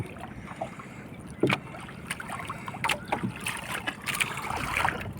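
A small fishing boat is under way on open water, with wind buffeting the microphone, soft splashes and hull knocks at irregular intervals.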